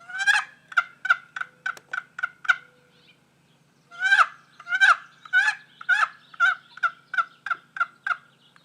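A 1958 Lynch turkey call imitates a tom's gobbles in two long rattling runs of rapid, evenly spaced notes, with a short pause between runs. The calls are close and loud, with no talking.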